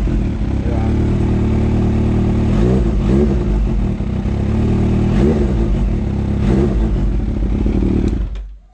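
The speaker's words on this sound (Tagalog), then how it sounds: "tingnan mo kung ganong yung throttle nito" A 2015 Kawasaki H2 motorcycle idling loudly up close, its engine blipped with several quick throttle revs that rise and fall before the sound cuts off at the end.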